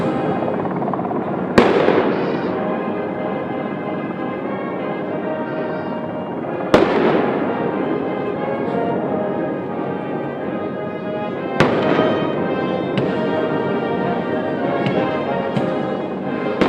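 Cannon blasts of a 21-gun salute at a state ceremony, four sharp booming reports spaced about five seconds apart, each ringing out over a sustained bed of band music or crowd ambience.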